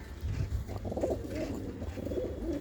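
Pigeons at a loft with breeding pairs coo in low, soft, overlapping rolls, a continuous murmur of several birds close by with no voices over it.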